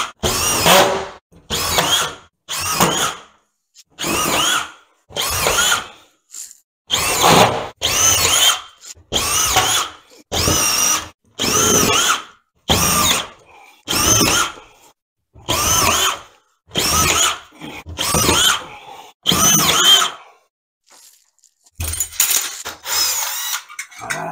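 A power drill drives screws through BA13 plasterboard into a ceiling, with repeated short high whirring bursts of a second or two separated by brief silences, loud and close.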